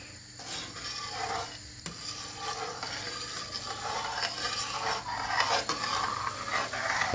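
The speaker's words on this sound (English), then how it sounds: "Now stir it." A spoon stirs tomato sauce in a pot for spaghetti and meatballs, a steady wet scraping and swishing rub that continues close and moderately loud.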